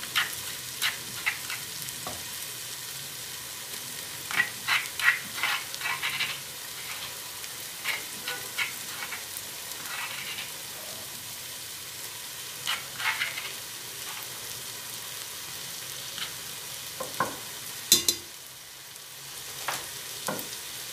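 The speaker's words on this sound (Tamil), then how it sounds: "வெங்காயத்தையும் இஞ்சி பூண்டையும் நல்லா வதக்கிக்கிறணும்." Onions with crushed ginger and garlic sizzle and fry in a pan, a continuous bright hiss with intermittent scraping and stirring clicks, close and steady throughout, no talk.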